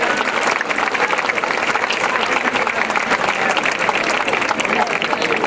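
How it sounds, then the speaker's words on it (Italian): Sustained audience applause at a dance benefit event for ALS patients, steady and dense with many hands clapping close by, alongside a faint undertone of crowd voices. "facciamo veramente un grande applauso"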